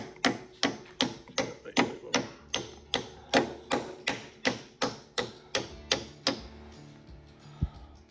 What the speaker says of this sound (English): Always back with the hammer.